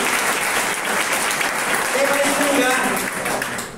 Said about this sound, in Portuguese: você pode dar uma salva de palmas